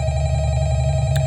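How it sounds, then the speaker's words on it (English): A short burst of a ringing telephone for an incoming phone call in a fan-made Five Nights at Freddy's 1 remake game, loud and steady with a low hum beneath it. "Ignore the phone call."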